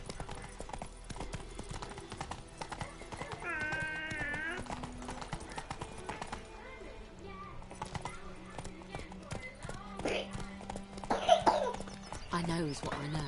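Horse hooves clip-clopping in a video game, a rhythmic, moderately faint trot under game music and character dialogue, with a cough-like sound and a brief whinny.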